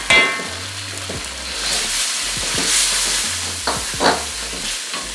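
Fresh green chilies and half-inch slices of ginger sizzle in hot oil in a karahi, with loud spatters, metal scraping and stirring clatter over a continuous frying hiss, in Peshawari street-food style.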